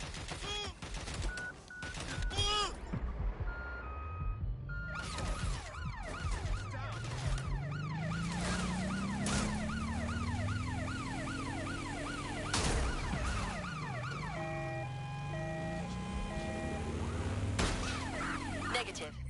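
An ambulance siren in the video game Watch Dogs Legion wails in rising and falling sweeps as the vehicle passes by, alongside engine drone, bursts of gunfire and clicks, with radio-style voices in places.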